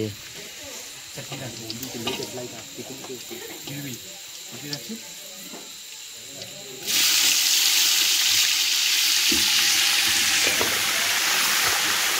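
Chicken hitting a hot tempering in a pan at a party cookout, a loud, sudden sizzle bursting in partway through after quieter background clatter and faint voices, then holding steady.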